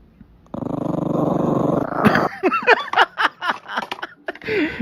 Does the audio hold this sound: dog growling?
yes